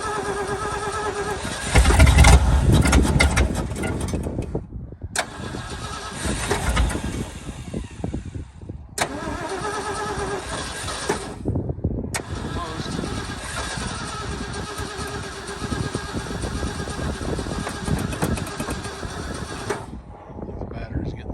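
A 1978 Ford F-150 truck engine with a tired battery cranks and fires up in loud bursts, stopping and restarting several times before settling into a steady running rumble near at hand, with people talking now and then.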